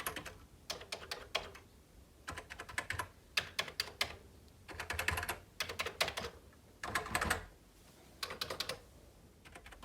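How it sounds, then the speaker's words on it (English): Bursts of key presses on THEC64, a replica Commodore 64 keyboard, with a slightly hollow plasticky clack, typed in quick rhythmic runs separated by short pauses, close and clear with no talking. "the keys feel equivalent to the original hardware, even though the sound they make when pressed is somewhat hollow"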